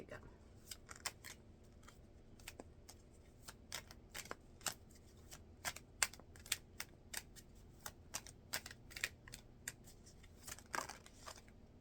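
Cards being handled and shuffled while one is chosen from a deck, giving a series of quiet, sharp riffling snaps and flicks spread irregularly over a low, steady background hum.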